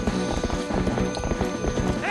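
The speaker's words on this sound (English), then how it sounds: "We will just ride our horse." Horse hooves clip-clop at a steady riding pace in the video game Zelda: Twilight Princess, heard up close amid dense game sound.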